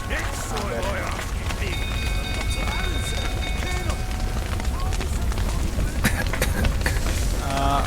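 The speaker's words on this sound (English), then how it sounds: "Looks like rain." Rain falls in a video game as a steady hiss of droplets layered with game effects, while a player talks over it throughout.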